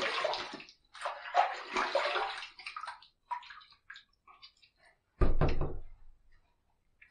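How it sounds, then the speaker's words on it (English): Stainless steel open comb safety razor rinsed under running water, a brief splashing burst with taps against the sink, between quieter rustling handling sounds. "Let's rinse."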